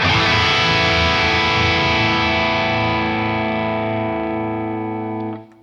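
Electric guitar played through a Crazy Tube Circuits Super Kraken boost pedal, a single bright, overdriven chord rings out and sustains, slowly fading before being cut off abruptly near the end.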